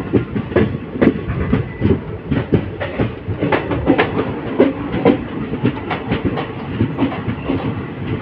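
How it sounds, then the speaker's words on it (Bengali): Sealdah Teesta Torsa Express pulling into New Cooch Behar railway station, a loud continuous rumble with rhythmic clickety-clack of wheels over rail joints, running alone throughout. "Train number 1314 up Sealdah Teesta Torsa express এই মুহূর্তে এসে পৌঁছালো নিউ কোচবিহার রেলওয়ে স্টেশনে।"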